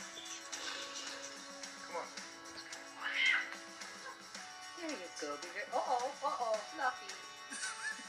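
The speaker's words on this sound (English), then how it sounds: "It's just a cat, dude." A cat meowing from a video playing nearby, several drawn-out, rising and falling meows mixed with a person speaking and background hum.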